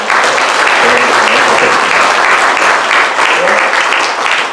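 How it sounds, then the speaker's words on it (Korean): Warm applause from a seated audience at a K-CPEC event honoring its chairperson, loud continuous clapping that holds steady throughout without other sounds. "박수 한번 이렇게 뜨겁게 보내주세요"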